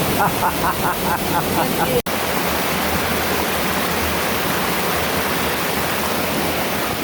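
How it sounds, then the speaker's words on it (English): Loud, dense roar of heavy rain and rushing water close by near a waterfall in Hawaii, with a voice talking over it for the first two seconds. "It's now pouring rain."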